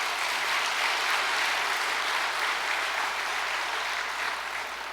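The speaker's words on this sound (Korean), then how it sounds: "식구님들께 감사의 박수를 올려드립니다." A church congregation applauds steadily in a sustained, even wash of clapping that tapers off slightly at the end, with no talking.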